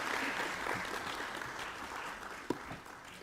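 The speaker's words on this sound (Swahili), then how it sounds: "Tumpigie makofi wakati anaondoka jamani." Audience applause from a live climate change forum, a faint, steady patter of clapping with one sharper knock near the end.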